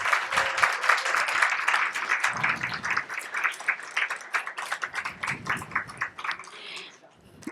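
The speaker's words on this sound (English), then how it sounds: "I would first like to do a quick round of applause for our amazing readers for tonight." Burst of applause from a small audience at a queer poetry reading, lively clapping that gradually thins out and fades near the end.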